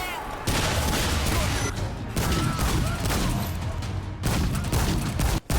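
Dense, continuous bursts of rapid gunfire from a sci-fi shooter video game fill the whole stretch. The shots come loud and near in volleys, with a brief gap before the final burst.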